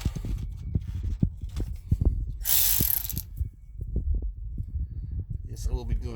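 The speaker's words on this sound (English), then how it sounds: "remove the four 13 millimeter bolts that hold in your skid plate" A ratchet clicks in quick bursts while 13 mm skid plate bolts are loosened under a 2015–2019 Ford F-150, close and crisp, with a brief hiss partway through.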